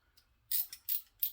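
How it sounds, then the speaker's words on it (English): Craftsman ratchet with a short 10mm socket tightening RC wheel hardware: three quick clicking bursts of the pawl, close and fairly quiet, with a faint tick before them. "I have my trusty Craftsman ratchet with a 10mm socket, short socket"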